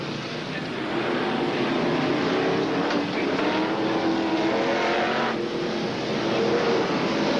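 BriSCA Formula 1 stock cars race at Coventry in 1981, their engines roaring together in a loud, continuous drone that rises and falls slightly as the pack circulates, with no commentary over it.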